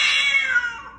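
A house cat gives one drawn-out, close meow that slides downward in pitch, heard alone.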